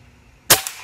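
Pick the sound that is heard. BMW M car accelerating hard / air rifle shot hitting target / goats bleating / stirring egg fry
air rifle shot hitting target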